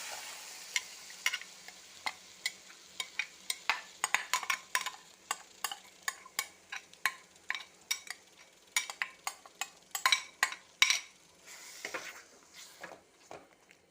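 Roasted ground masala paste for a village-style mutton curry goes into a pan and is stirred, making a steady run of scraping spoon strokes with a soft sizzle underneath, close and alone.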